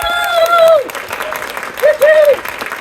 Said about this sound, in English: Could we get one last round of applause to thank both of you?